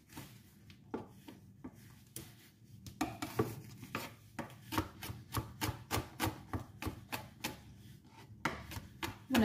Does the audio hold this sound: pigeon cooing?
no